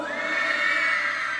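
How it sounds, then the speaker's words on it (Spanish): Young crowd at an evening Christian worship concert in Chivaquib, Guatemala, letting out one loud sustained joyful shout together, a dense continuous roar of many voices. "dale un grito de júbilo"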